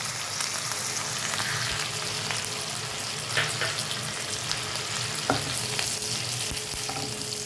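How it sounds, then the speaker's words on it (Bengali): Curry leaves dropped into hot oil with golden-fried onion for a pepper prawn fry, giving a steady loud sizzle and crackle with occasional stirring scrapes throughout. "এবার এর মধ্যে দেব বেশ কয়েকটা কারি পাতা।"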